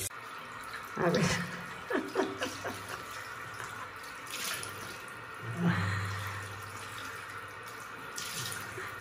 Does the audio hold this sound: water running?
yes